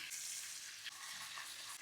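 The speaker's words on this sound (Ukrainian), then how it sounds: "Ось бачите, про що я вам говорив, що грибочки вже починають смажитись" Chicken fillet and mushrooms fry in butter in a pan over moderate heat, a steady close sizzle with faint stirring crackles.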